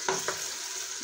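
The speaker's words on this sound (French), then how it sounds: "Et là la viande il a commencé à cuire." Meat sizzling in a mix of table oil and olive oil for couscous, a close, steady frying crackle with a couple of brief stirring knocks near the start.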